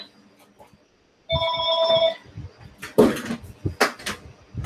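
Mobile phone ringing during a school board policy committee meeting, a short electronic ring of about a second, followed by rustling and handling noises nearby.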